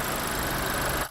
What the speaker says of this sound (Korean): 2리터 가솔린 엔진입니다.